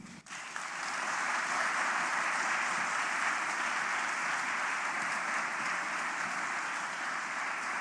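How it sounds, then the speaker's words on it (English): Sustained warm audience applause at a USDA event, dense and steady clapping from a large crowd filling the room throughout. "Another warm applause."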